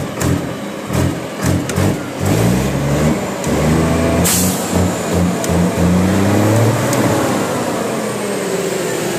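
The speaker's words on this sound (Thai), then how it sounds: "เดี๋ยวฟังเสียง แรงครับแรงคันเร่งไฟฟ้าครับคันเร่งไฟฟ้า" A Thai trailer truck engine with an electronic throttle, stock and untuned, revs up repeatedly in loud close bursts, rising and falling in pitch over a rough idle, with a brief air hiss partway.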